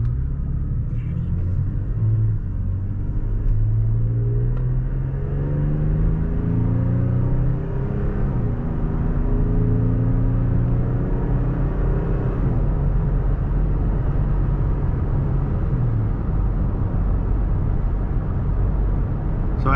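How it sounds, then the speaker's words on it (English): Steady engine of a 2020 Toyota Tacoma TRD Sport pulling through mild acceleration from inside the cab, its droning rumble climbing in pitch through several gear-like sweeps over about twenty seconds, with no talking. "I'll do a mild acceleration here just so y'all can hear the engine rev out"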